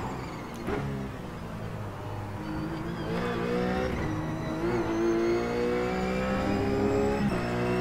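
Race car engine in a racing simulator, droning steadily and climbing in pitch as it revs through the gears, loud and close with no talk.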